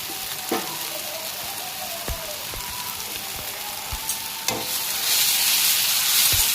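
Wild mushroom curry sizzles steadily in a pan as fresh coriander is stirred in, with a continuous near frying hiss broken by a few soft spoon knocks and clinks.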